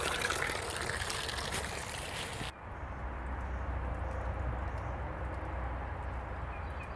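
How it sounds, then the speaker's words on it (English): Fresh water runs into a rabbit cage, a steady faint trickle and splash that begins abruptly as the flow is turned on and then continues evenly, with no talking. "Then I'll just turn the fresh water on."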